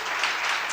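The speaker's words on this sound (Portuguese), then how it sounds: "aplauda o Senhor Jesus" Church congregation applauding during a sermon, a brief burst of dense clapping heard alone.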